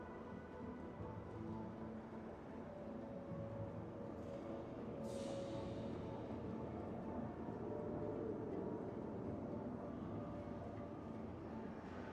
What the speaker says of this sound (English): tram now approaching.